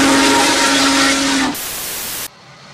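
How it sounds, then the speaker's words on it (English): A steam whistle blows a loud, steady hissing tone with a clear pitched note, then drops to a thinner hiss before cutting off abruptly into near silence. "think of my new steam whistle?"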